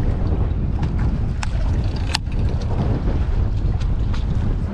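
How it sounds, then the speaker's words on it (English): Strong wind blows across open water at the Port of Brisbane, a steady loud rushing roar buffeting the microphone, with a few faint clicks and knocks from a boat. "the wind's ripping over our heads"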